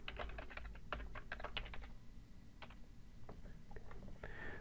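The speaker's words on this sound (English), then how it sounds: "I'm going to click in the username and start typing." Quick bursts of computer-keyboard typing, close and soft, with short clustered keystrokes, a pause in the middle, then a few more taps.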